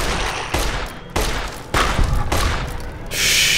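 Frag mine blasts in the video game Fallout New Vegas, several sharp loud bursts in quick succession, each cutting off abruptly, ending in a sustained hissing roar.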